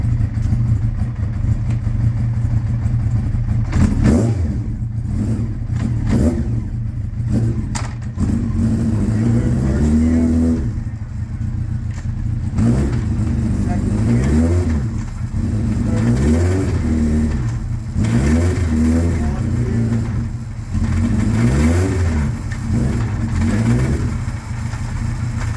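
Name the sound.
Honda CBR900RR motorcycle engine starting and revving through gears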